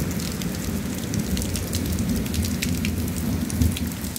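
Heavy rain pours steadily onto surfaces during a thunderstorm on a walking route between Saâne-Saint-Just and Baons-le-Comte in Normandy, France, with a low continuous rumble beneath the dense hiss of falling water.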